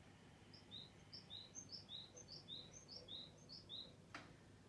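Faint, repeated high chirps from a bird in an even series, over a quiet background hum, with one brief sharp click near the end.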